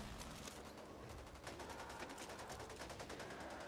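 Dense, continuous automatic gunfire in the zombie shooter Back 4 Blood, rapid bursts overlapping loudly throughout with no pauses.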